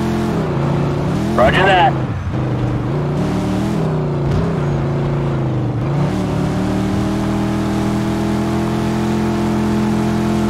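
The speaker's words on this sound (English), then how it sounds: "Pursuit of a speeding vehicle" A speeding car engine in Mafia II, a loud steady drone rising and falling as it revs and shifts, with a brief radio-style voice over it early on.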